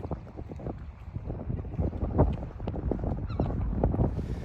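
Strong wind buffets the microphone on a small coastal pier at Portgordon on Scotland's northeast coast, making a continuous low rumbling roar with gusty surges throughout and no one speaking.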